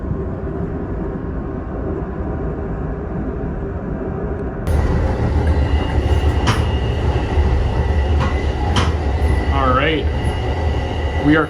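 An Amtrak passenger train rumbles along the rails approaching the Lorton Auto Train Station, steady and loud, growing fuller midway, with brief high wheel squeals near the end.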